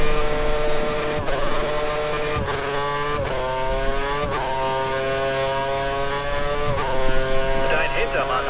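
Formula 1 car in the F1 2013 racing game, engine whining at high pitch as it climbs through the gears with repeated shift drops, loud and steady throughout.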